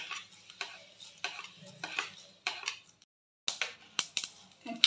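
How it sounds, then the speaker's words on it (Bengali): Mustard seeds and spices frying in a pan, with repeated scraping stirs and light metallic clinks over a faint crackle, one brief pause, then more quick scrapes. "এই যে সবগুলো এখন ফ্রাই করে নেব। এখন সরিষা দিয়ে দিচ্ছি এটার মধ্যে।"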